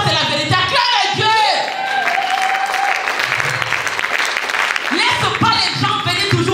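Congregation at a church worship service applauding and cheering to acclaim God, a loud, dense sustained wash of clapping and shouts with voices and singing mixed in throughout.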